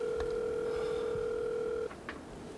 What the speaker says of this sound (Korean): 우선 영남이 형한테 전화를 걸었죠.